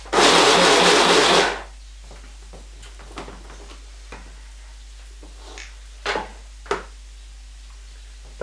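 A loud blender chopping food whirs for about a second and a half, then stops, leaving quiet with a few light clicks and knocks.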